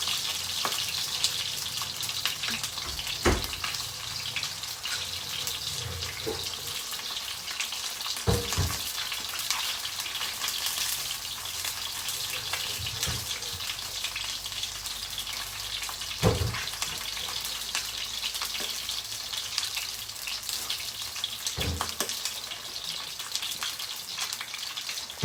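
Milkfish (bangus) frying in hot oil gives a steady sizzle with several sharp pops scattered through the clip. No one speaks.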